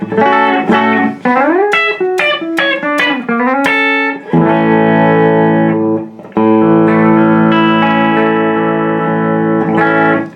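Electric guitar on its bridge pickup through an effects unit, loud and close: a quick run of bent, distorted notes, then long sustained chords ringing out with a short gap between them.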